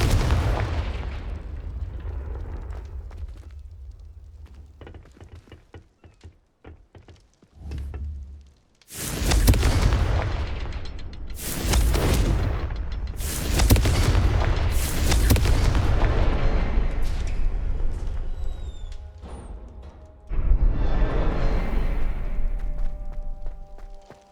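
Confringo fire spell blasts in the Hogwarts Legacy video game go off in a rapid series of loud booming explosions, each followed by a crackling roar, with a quieter gap midway.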